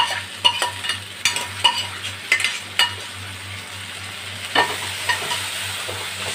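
Boiled moong dal being stirred in a pan with fried fish head, ginger and garlic, a spoon scraping in irregular strokes over a steady low sizzle, close and alone.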